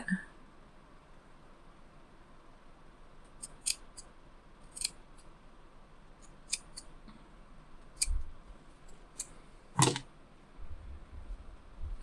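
Scissors snip through fabric for a handmade hair clip, giving several close, crisp cuts spread out over quiet room tone, with one louder snip near the end.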